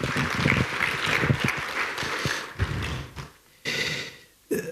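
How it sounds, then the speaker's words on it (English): Audience applause for the Commissioner at a national labour convention and expo, a burst of clapping that fades, returns briefly, then dies away in short pieces. "Give Mr. Simwe, the Commissioner, another big hand clap."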